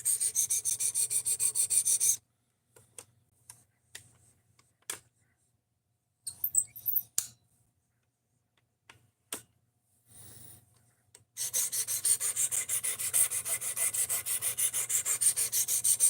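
A knife blade is sharpened with steady rasping strokes: a long grinding stretch, a pause of scattered small taps and scrapes, then the continuous scraping resumes, close by.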